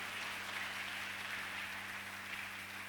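A church congregation at a Sunday service applauds in a steady, even patter of many hands, moderately distant and without a break, with no speech over it.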